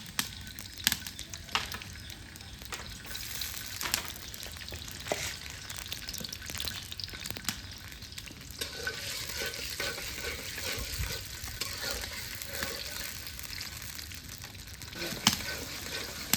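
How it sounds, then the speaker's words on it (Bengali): Garlic fried in hot mustard oil over a clay stove, giving a soft continuous sizzle with occasional stirring clinks and faint background noise, close and fairly quiet throughout. "তেল গরম হতে রসুন দিয়ে দিলাম।"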